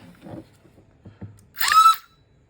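A few soft clicks, then a short, bright whirring burst as a Hare Technology Diana foam blaster's flywheel spins up and its pusher fires once in semi-auto, ending abruptly in quiet.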